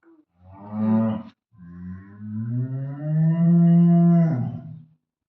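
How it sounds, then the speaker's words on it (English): A cow moos twice close by, a short low call followed by a long drawn-out bellow that swells and fades, with silence around it. "కావు వచ్చింది కావు"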